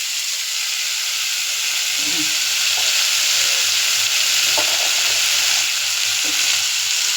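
Ground cumin, coriander and turmeric powder fry in a hot pan with a steady, close sizzling hiss throughout, broken by a few soft stirring knocks.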